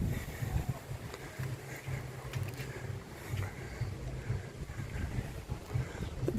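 Strong wind gusts buffet the microphone on a beach in Kos, Greece, a steady roaring rush with fluctuating loudness and no talk.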